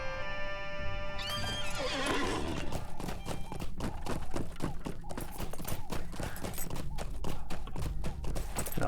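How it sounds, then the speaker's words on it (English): Horse in the game LOTRO whinnies loudly at first, then its hooves clip-clop in a steady, rapid rhythm as it is ridden for the rest of the stretch. "So we'll go ahead and mount up our horse,"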